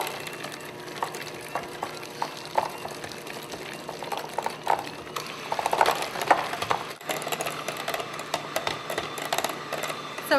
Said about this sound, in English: I'm just going to beat those up until it's nice and creamy.